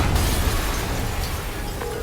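A trap-rigged building blows up in the Spider-Man PS4 video game, a loud sustained boom with a heavy low rumble that fills the whole moment, no speech over it.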